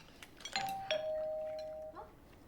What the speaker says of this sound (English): Is that the doorbell? Yes, someone's at the door.